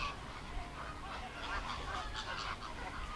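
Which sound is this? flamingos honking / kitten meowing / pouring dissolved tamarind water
flamingos honking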